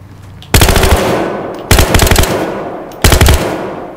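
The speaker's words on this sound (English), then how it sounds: "I'm going to do some range shooting." Three long bursts of automatic gunfire at a shooting range in Battlefield Hardline, each a loud, close, rapid rattle lasting about a second, with short quiet gaps between them.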